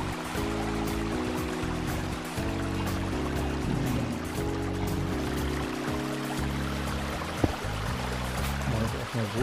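Flowing water in the Minecraft video game, breaking into a subway tunnel under construction, makes a steady pouring, rushing sound beneath loud, blocky game music that changes in stepped chords; there is no speech.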